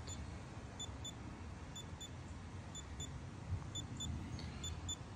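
A handheld drone detector gives repeated short, high-pitched double beeps in a steady rhythm after picking up a nearby drone, fairly faint over a low background rumble.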